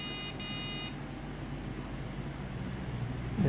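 A Dell OptiPlex 980 desktop gives a faint, high error beep in a brief broken pattern at the start, then goes quiet under steady fan-like hiss and low room noise.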